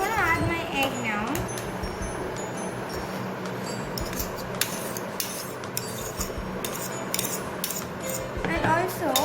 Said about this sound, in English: So I'm going to add my egg now